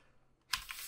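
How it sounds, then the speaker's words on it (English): Brief burst of computer keyboard typing while entering a command to restore a Linksys WRT router over a serial connection, close and fairly quiet, starting abruptly after near silence. "then we're going to type firmware name"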